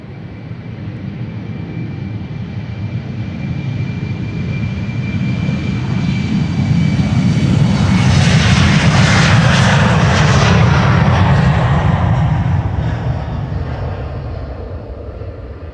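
A KLM Embraer 190 in SkyTeam livery takes off at Amsterdam Schiphol, its loud jet roar swelling as it passes close and then slowly fading, with no talk over it.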